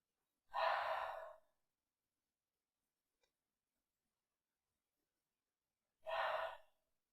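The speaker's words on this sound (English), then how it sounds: "we're going to pause and take our 3 beautiful deep breaths. Inhaling through both nostrils" Two deep, slow breaths, each drawn in through the nose and released through the mouth during a beginner yoga flow for the spine, heard close and clear with long silence between them.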